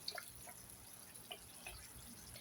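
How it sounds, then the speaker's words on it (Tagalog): A little vinegar goes into a spicy dish: faint, scattered liquid drips and small splashes, quiet and close, with no voices. "Lagyan natin ng konting suka."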